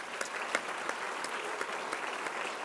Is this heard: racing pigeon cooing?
no